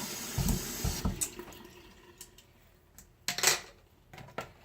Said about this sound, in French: je vais vraiment juste aller mouiller mes pinceaux